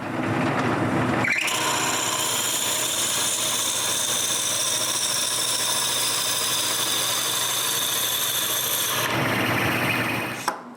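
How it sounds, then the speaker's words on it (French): A wooden cylinder for a handmade wood cryptex is cut and drilled, giving a loud, steady grinding rasp that runs unbroken for about eight seconds before stopping abruptly. "je le coupe et je perce le trou du cylindre"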